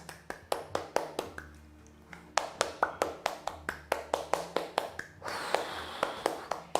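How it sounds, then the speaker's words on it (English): Hands clapping in a steady, brisk rhythm during a live Kundalini yoga class, sharp close claps repeating with a brief pause midway, then resuming with faint breathing underneath. "Start to clap your hands."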